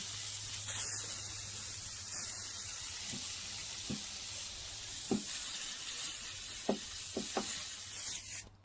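PB Blaster penetrating oil hisses steadily from an aerosol can, sprayed onto a wasp nest on an old VW Cabriolet, with a constant close spray and a low hum underneath, plus a few faint taps.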